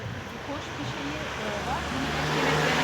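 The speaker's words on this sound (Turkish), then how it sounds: "Araba geçti şimdi." A car passing by on a street outdoors, a low rumbling engine swell that grows gradually louder toward the end, heard with steady background noise and no talk over it.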